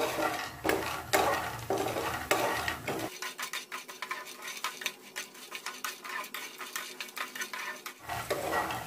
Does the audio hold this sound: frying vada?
yes